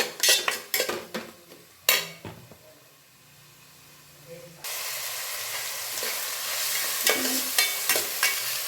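Clattering utensils and stirring knocks at first, then onions with coriander and mint hit hot oil for pasta, setting off a sudden loud, continuous frying sizzle with occasional scrapes.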